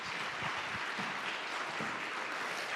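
Audience applause at a Women's History Month celebration, a dense, fairly faint wash of many hands clapping steadily throughout.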